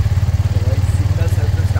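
A Suzuki Gixxer SF250 single-cylinder motorcycle idles steadily after a cold start in chilly valley air, a close, low, even thumping pulse running throughout.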